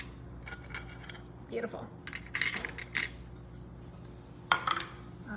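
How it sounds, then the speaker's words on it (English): Hard candy canes dropped into a crock pot onto chocolate, a series of light clinks and taps in small clusters, close and fairly crisp, with a brief word spoken midway. "Just put them right on top of your chocolate in your crock pot."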